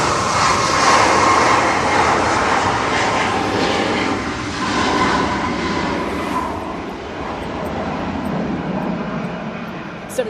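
A Boeing 737 MAX 8 jet roars on its takeoff roll at windy Manchester Airport, a loud, continuous broadband rumble heard from a distance that swells slightly and then eases, with wind noise mixed in.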